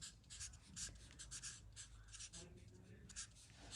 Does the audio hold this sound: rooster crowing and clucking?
no